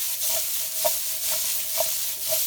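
Sautéed vegetables in olive oil are tossed in a pan, sizzling steadily. Soft rhythmic scrapes and knocks sound about every half second, close and clear, with no talking.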